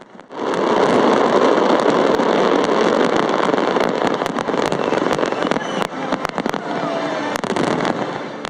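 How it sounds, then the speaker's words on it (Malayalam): A New Year fireworks display in Abu Dhabi with a dense continuous roar of bursts, crackles and sharp bangs. It is loud and sustained, with individual explosions popping out over the wash of noise. "1 മണിക്കൂറിലധികം നീണ്ട വെടിക്കെട്ടിനിടെ വെറും 30 സെക്കൻഡിനുള്ളിൽ ഏറ്റവും കൂടുതൽ വെള്ളച്ചാട്ടങ്ങൾ, വിസിൽ ശബ്ദം, ഇടിമുഴക്കം"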